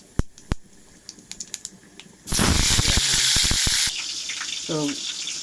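Cumin seeds tempered in hot oil for a shrimp and cabbage dish: a few light clicks, then a sudden loud hiss of sizzling that holds for a second or two before easing into a softer crackle.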